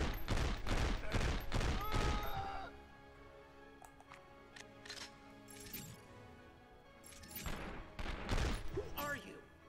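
Rapid shotgun blasts in the 24: The Game video game, a quick burst of loud, close booms at the start followed by scattered thuds and a second volley near the end, with mechanical clatter in between.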